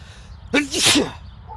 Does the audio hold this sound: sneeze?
yes